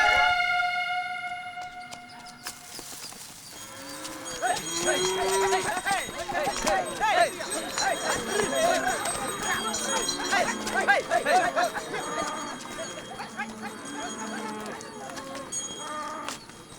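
A cow is led along, its hooves clopping in an irregular rhythm while a bell jingles close by, with people talking over it.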